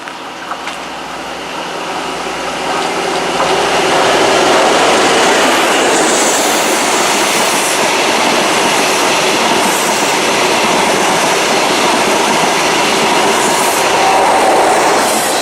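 A locomotive-hauled passenger train, service 1037 from Finsbury Park to Fort William, runs through a station on the Maryhill line, building from a distant rumble to a loud, steady roar of wheels and clattering carriages close by.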